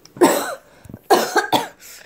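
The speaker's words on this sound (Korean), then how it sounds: "일부러 기침한 건 아닌데." A woman coughs three close, loud times in quick bursts, a short pause after the first, no speech around them.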